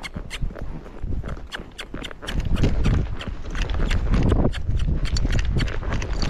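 Tennessee Walking Horse hooves clip-clopping in a quick, even gait, loud and close, with steady thuds continuing throughout.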